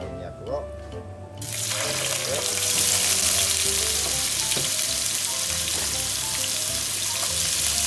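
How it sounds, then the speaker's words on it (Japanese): Konjac pieces drop into hot sesame oil in a pan over high heat and burst into a loud, continuous sizzle that fills the rest of the clip. A voice speaks at times. "先ほど切ったこんにゃくを"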